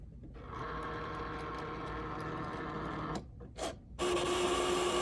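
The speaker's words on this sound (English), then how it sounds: "we're going to hit our play button on our Cricut Maker 3" A Cricut Maker 3 cutting machine cuts a heat-transfer vinyl design, giving a steady close mechanical whir and buzz that stops abruptly near the end, followed by a brief shuffle and a different steady motor tone.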